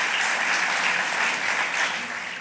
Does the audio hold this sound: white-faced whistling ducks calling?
no